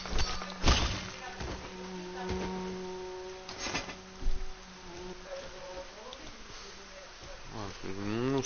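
Buzzing of a fly close by, a steady insect drone with a few louder passes and thumps, heard under someone speaking French.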